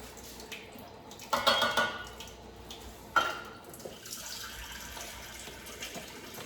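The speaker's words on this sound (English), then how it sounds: "I'm just gonna add a little bit more water" Water poured into a cooking pot with coconut milk, a splashy pour near the start and a brief second splash, then a low steady running trickle.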